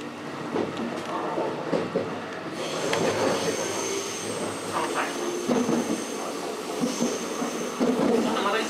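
A four-car JR West electric commuter train on the Kansai Airport Line runs steadily with rolling wheel noise, a rhythmic clatter of rails and occasional high metallic squeals, heard from inside a carriage.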